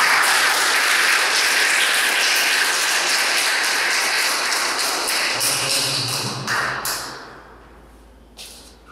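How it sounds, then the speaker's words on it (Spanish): A school audience at an opening-of-classes ceremony gives loud, sustained applause for the director, a dense roar of clapping that holds for several seconds and then thins out, ending in a few scattered claps. "el señor Marcelo Rodríguez Mandujano, para quien pedimos fuertes votos de aplauso."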